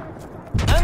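Burst of gunfire in a Call of Duty WWII multiplayer match, a loud volley breaking in halfway through after quieter game noise, with a voice faintly audible underneath.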